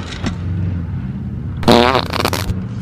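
A loud, close fart, a single sputtering blast lasting about a third of a second over a steady background hum.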